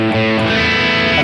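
An electric guitar runs through a Plexi-style amp tone with chorus and low gain on a multi-effects unit, played as a loud, sustained chord with a brief change in the strumming.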